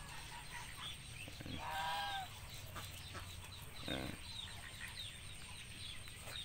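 Chickens and geese on a Filipino farm, faint ambient clucking punctuated by a couple of distinct louder calls, one around two seconds and another near four, against quiet background.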